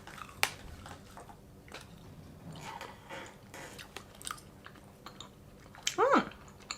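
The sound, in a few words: eating chewy sour gummy candy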